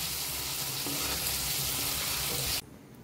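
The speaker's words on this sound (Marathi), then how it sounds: "टोमॅटो चांगला तेलात परतून घ्यायचा, चांगला मऊ होऊन शिजला पाहिजे कांदा।" Tomato and onion saute in hot oil with a dense, even sizzle for a veg kurma, steady and close, then it cuts off abruptly near the end into near quiet.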